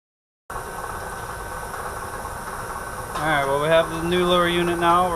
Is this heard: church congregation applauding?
no